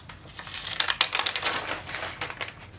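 Scissors cutting fabric for 1860s underwear, a close series of sharp, rapid snips and rustles lasting a few seconds with no speech.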